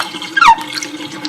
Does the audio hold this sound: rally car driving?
no